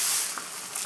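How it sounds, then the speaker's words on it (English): Eggs dumped into a hot pan sizzle with a soft, close, airy hiss for under a second, plus one faint small pop and no voices. "now I'm just going to take the eggs and dump them in. Oh, that sounds so cool"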